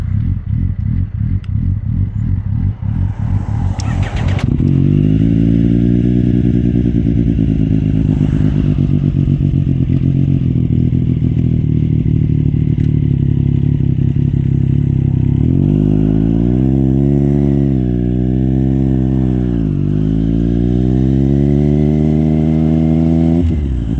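A Suzuki GSXR600 sport bike makes a high-speed pass, its engine rising to a loud, strained whine and then dropping in pitch as it goes by, followed by further revving and shifting as it pulls away.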